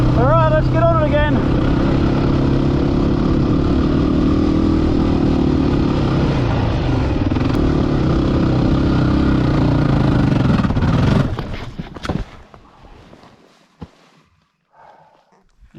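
A WR motorcycle ridden on a sandy Simpson Desert track, its engine droning loud and close at a steady pitch for about eleven seconds before cutting off abruptly, leaving faint rustles and small knocks.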